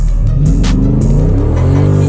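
A Dodge Hellcat's engine revs loud and close while it drives on the road in Dubai, a deep throbbing growl that holds steady through the whole moment.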